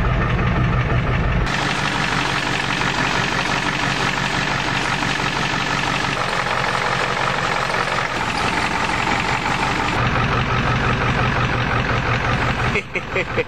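A Ford diesel truck engine idles on its own after a cold start, a loud, steady, knocking diesel rumble running throughout with only brief shifts in tone.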